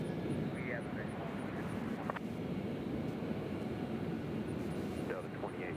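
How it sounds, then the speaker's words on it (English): An Embraer jet makes a low approach at Nashville International Airport. A steady, broad engine roar fills the whole stretch at a moderate distance, with a faint voice underneath. "See that Embraer doing a low approach to center."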